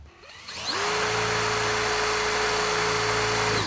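An electric drill spins up and bores into a wooden guitar body clamped to a workbench, a loud, steady high whine that holds an even pitch for several seconds close by.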